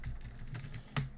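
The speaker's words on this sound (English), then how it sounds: "I'm hitting all the keys on the keyboard." Rapid, uneven clatter of keys on a computer keyboard during a Turrican II ZX Spectrum game session, close and fairly quiet, ending with a couple of sharper, louder keystrokes.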